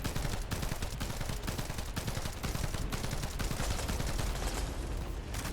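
Continuous rapid automatic gunfire in the shooter game The First Descendant during a hard mode boss fight, dense rhythmic shots running loud and unbroken throughout.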